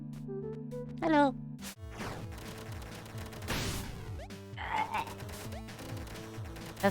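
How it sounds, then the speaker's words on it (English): Action video game audio is busy with melee hits and crashes, rapid bursts and sweeping effects, and it builds into the sound of the player character dying. The layered effects are loud and continuous throughout. "That's the sound of me fucking dying."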